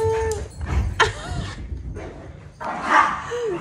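Three excited dogs bark, yip and whimper in a burst of playful zoomies indoors, several quick sharp barks close by, overlapping and uneven, with no talk.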